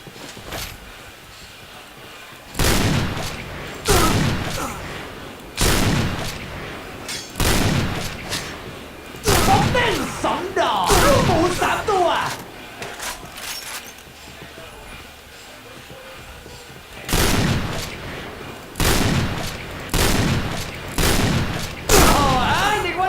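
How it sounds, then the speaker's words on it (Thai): Shotgun gunfire in a video game, triggered through a macro on a CM Storm Havoc mouse: loud, close bursts of repeated shots in separate clusters with short pauses between them, and someone speaks at times. "คือยิงแบบธรรมดานะครับนี่มาแบบมาโครเลยนะครับ"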